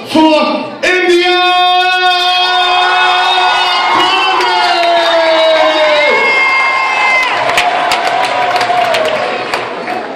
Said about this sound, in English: please give a warm round of applause for India!